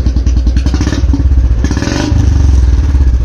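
Royal Enfield Bullet 350 motorcycle revved with the throttle: a loud, close thumping single-cylinder exhaust that rises into a brief rev burst, then settles back to a steady rapid beat.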